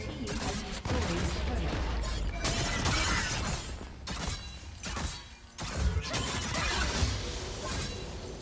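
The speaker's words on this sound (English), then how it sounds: "Let's go cut down this turret." Gwen, the scissor-wielding champion in League of Legends, strikes an enemy turret with quick snipping, shattering hits and whooshes. The impacts repeat in dense bursts over a busy game mix, and faint voices sit underneath.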